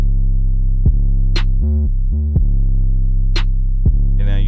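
Heavy, buzzing distorted 808 bass notes boom in a repeating pattern, with a couple of sharp clicks and brief stutters between hits.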